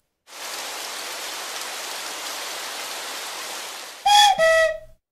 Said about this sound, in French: C'est la pluie qui tape au carreau.